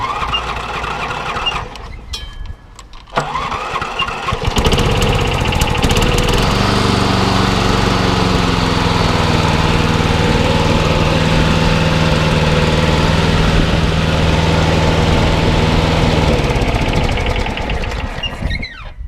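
Hayter Harrier 48 lawn mower with a newly fitted engine, heard from near up: brief cranking and sputtering attempts, then the engine catches and settles into a loud, steady idle before cutting out at the end.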